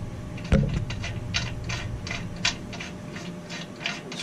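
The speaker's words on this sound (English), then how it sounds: "I've taken this bolt and trimmed it down and beveled as I showed in the other video, and it's gonna screw in here perfectly" A trimmed, bevelled custom bolt is screwed into a Predator 212 small engine, giving close, rhythmic metallic ratcheting clicks with a sharper knock near the start.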